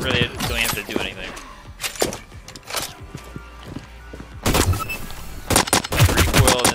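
Ripper gun hip fire in the Hyper Scape video game: several close, sharp bursts of rapid automatic gunfire, separated by brief quieter gaps.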